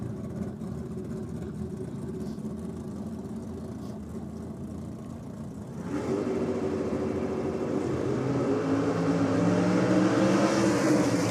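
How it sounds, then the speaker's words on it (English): Drag race cars at an East Coast Thunder event roar off the line, a steady loud engine drone that jumps in volume and rises as the cars launch and accelerate away down the strip. "This is a drag race."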